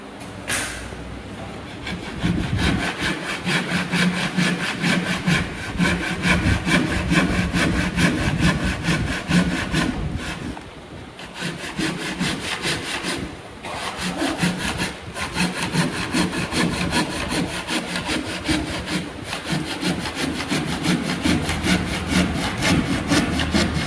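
Steady back-and-forth hand sawing through wood, loud and close, continuing rhythmically for a long stretch with a couple of brief pauses.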